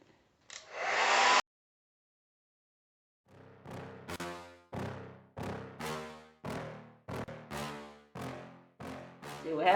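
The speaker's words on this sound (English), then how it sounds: "I'm about to use my hair dryer to warm it up and just take it off." A hair dryer on its highest setting, blowing over a vinyl pinstripe to loosen it, gives a short whoosh, then after a pause runs in a series of rhythmic surging bursts that rise and cut off repeatedly.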